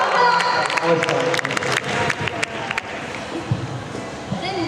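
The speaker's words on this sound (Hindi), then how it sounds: "जोरदार तालियों से स्वागत किया जाए हमारे देश के दोनों नेताओं" A crowd at a Constitution Day program claps to welcome two leaders. The sharp, close claps are busy at first, then thin out and fade after a couple of seconds as people start talking.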